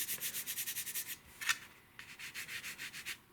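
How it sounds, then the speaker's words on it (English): Quick, rhythmic strokes of fine 320-grit sandpaper rub back and forth over tissue and dope covering, a brief pause mid-way, then the even scratching resumes, close and quiet. "We're sanding this with 320 again because we're just, even though it's fine sandpaper"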